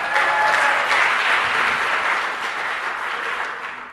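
An audience at a women founders' pitch night gives a loud, full round of applause for the sponsors. The dense clapping swells at first and then slowly tapers over four seconds.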